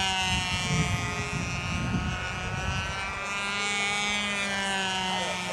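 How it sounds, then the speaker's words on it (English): Model airplanes flying overhead at a windy contest flying field, a steady high-pitched propeller whine with a rumbling low layer, fairly near and continuous. "You guys with those model planes are making too much noise."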